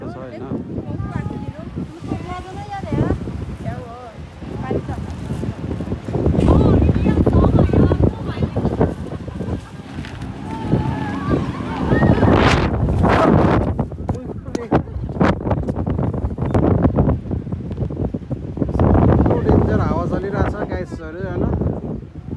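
Strong wind gusting along the Busan waterfront, hard enough to carry off a cap, roars and buffets the microphone in loud surging bursts, with water sounds and talking voices underneath.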